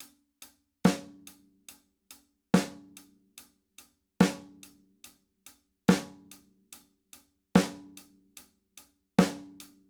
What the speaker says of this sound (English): Our right hand on the hi-hat is going to be playing eighth notes the whole time.